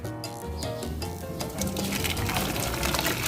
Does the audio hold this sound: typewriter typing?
no